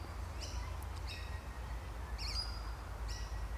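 Birds sing near a creek in Australia, giving a few brief, faint chirps spaced a second or so apart over a steady low rumble of running water.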